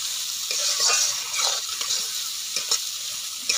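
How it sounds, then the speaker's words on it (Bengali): Mustard paste and spices being stirred in a frying pan with potatoes for a pomfret fish curry: a bright, steady sizzle broken by several close scraping strokes of a spatula, with no talking. "সর্ষে বাটাটা দিয়ে আবার একটু নাড়াচাড়া করে নেব"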